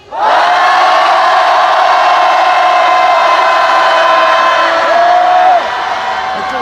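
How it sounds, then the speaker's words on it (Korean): A large crowd at a Sewol ferry disaster memorial rally in South Korea shouts together in one loud, sustained roar lasting several seconds, close and continuous, tapering slightly at the end. "함성 시작."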